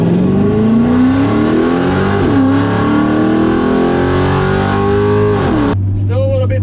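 A drag race car accelerates hard down the strip at MIR, its engine roaring loud and close with a rising pitch that climbs steadily through the gears before cutting off abruptly near the end.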